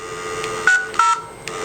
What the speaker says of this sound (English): I can dial the MOBEX access number, get answered by the dial tone,